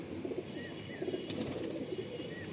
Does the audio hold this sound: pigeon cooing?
yes